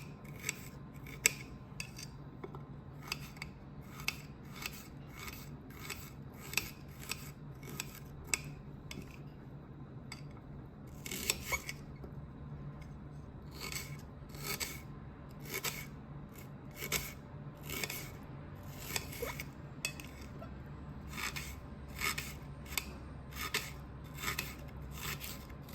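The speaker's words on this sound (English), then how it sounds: "Cut it down with the knife." A knife chops jolokia chili on a cutting board in a kitchen, giving many quick, crisp taps in irregular bursts at close range, fairly quiet, with short pauses between runs of cuts.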